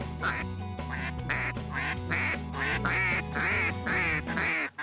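A duck call blown in a run of loud, rhythmic quacking notes, each nasal honk repeated in quick sequence and heard close and alone.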